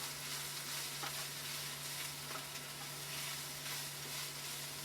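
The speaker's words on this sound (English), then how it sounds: "So now I'm just going to mix all this up." Seasoned empanada filling being stirred in a hot pan, a soft continuous sizzle with occasional scraping strokes of the spoon, steady and fairly quiet with a low hum beneath.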